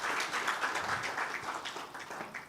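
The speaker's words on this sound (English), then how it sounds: "A round of applause as Dr. Kathula comes on stage." Audience applause at a Health Right Kenya 20-year celebration as a keynote speaker comes on stage, a dense, continuous patter of many hands clapping close by, steady and lively, slowly thinning toward the end.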